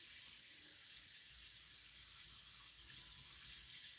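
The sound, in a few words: tap water filling a reptile's water bowl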